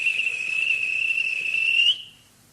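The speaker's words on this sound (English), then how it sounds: "At last, the guard blew his whistle." A railway guard's whistle gives a single sustained, shrill blast that rings out loud and steady for about two seconds, then cuts off abruptly.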